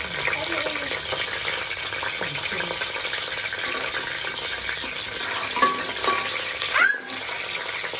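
Spices and chilli sizzle and crackle in a pot as they are stirred for mutton biryani, a steady frying hiss with occasional scrapes of the spoon, close and moderately loud.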